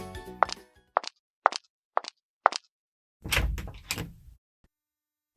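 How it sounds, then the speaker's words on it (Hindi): A door is opened with a short run of sharp knocks and clicks from the latch and handle, followed by a heavier thud and a scraping rush as it swings open, then silence. No one speaks. "दरवाजा खुला"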